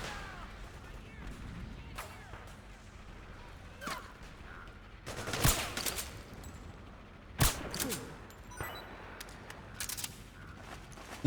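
Gunfire aimed at a sniper in Liquid Sun, several separate sharp shots spaced irregularly across the stretch, a couple louder and closer than the rest, over a low rumbling game backdrop with no voices.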